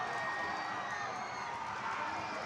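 A football stadium crowd at a Bhutan Premier League match between Ugyen Academy FC and Thimphu FC roars steadily after a goal, a dense, sustained wash of cheering voices with no breaks.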